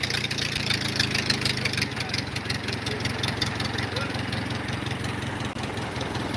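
A Model A Ford car engine on a Pietenpol homebuilt aircraft drones loudly at full static power, about 1950 RPM, a continuous low rumble with a rough, pulsing texture and no breaks.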